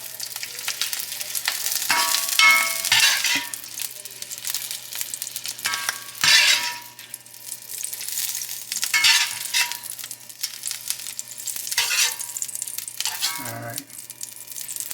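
Shrimp fry in oil with a bright, crackling sizzle, close and fairly loud, broken by intermittent stirring and utensil scrapes that swell and fade in bursts.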